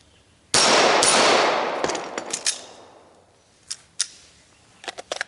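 A single loud pistol shot cracks close by during a holster drill, its report ringing and decaying over a couple of seconds, followed by scattered faint clicks and metallic handling sounds of gear and holster.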